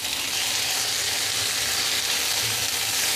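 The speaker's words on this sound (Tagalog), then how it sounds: "Halo-haloin lang natin, gisa-gisa." Tomatoes, onions and garlic sautéing in a pan for a corned beef sinigang, a steady, even sizzle that stays close and constant without pauses or voices.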